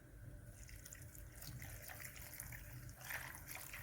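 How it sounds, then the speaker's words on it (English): Water being added to a pot of egusi soup on the stove, a soft continuous pouring and trickling, faint and close, with no talk. "and I'll add in water."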